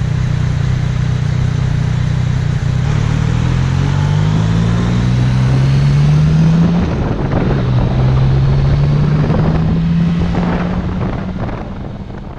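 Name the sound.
Yamaha MT-09 Tracer GT motorcycle engine and exhaust with wind noise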